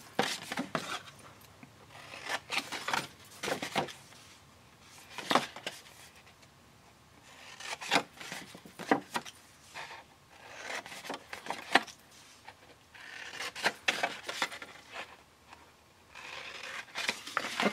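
Paper box tabs being cut up to their score lines, a series of short crisp snipping and rustling bursts in irregular clusters, close and fairly quiet with brief gaps between cuts.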